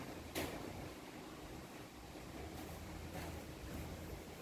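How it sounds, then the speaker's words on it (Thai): Wind blows steadily outdoors as rain begins, a constant broadband rushing roar with occasional gusty buffets against the microphone. "ฝนเริ่มมาแล้ว ลมมาทางนี้นะ"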